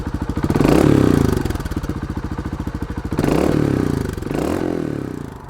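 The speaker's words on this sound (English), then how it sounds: "one of the main reasons that people go and buy a Montesa 300RR is the noise is pure poetry in motion" A Montesa 300RR trials motorcycle engine revs hard in short bursts, a rapid throbbing putter rising and falling three times, close and loud.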